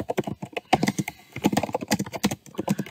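Normal-pressure typing on a Dell XPS 17 laptop keyboard gives a quick, close run of light, clicky keystrokes in uneven bursts, alone with no voices.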